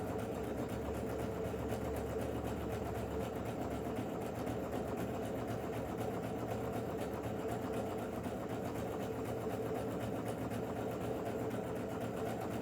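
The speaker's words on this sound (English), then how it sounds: "It's really fun to sew these decorative stitches." A sewing machine stitching decorative stitches through fabric backed with stabilizer, using a 2A foot, runs as a steady, continuous mechanical hum and rapid needle chatter, close and unbroken for the whole stretch, with no talking.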